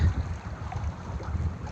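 Steady wind buffeting the microphone with a low rumble, continuous and fairly loud, with a faint watery wash underneath, out on water with a current.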